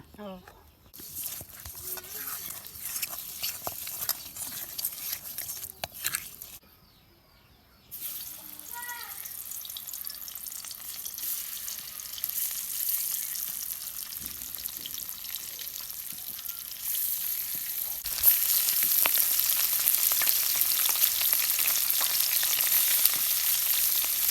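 Fish frying in spiced oil in a home kitchen, a steady crackling sizzle that grows louder and hissier toward the end, with a short quiet gap and someone talking over it.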